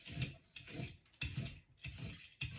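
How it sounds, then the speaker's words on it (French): Quick rasping scrapes of a peeler stripping white asparagus, four or five short strokes in a steady rhythm, close and fairly quiet. "vous le déposez sur une surface de travail et vous pelez l'asperge comme ceci"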